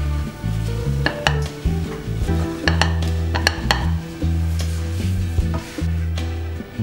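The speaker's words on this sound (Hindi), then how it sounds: "अब अच्छे से स्टर करिए।" A spoon stirs sabudana khichdi with chopped coriander, black pepper and lemon juice in a sizzling pan. Repeated scrapes and clinks against the metal ring out over a low, constant frying hiss.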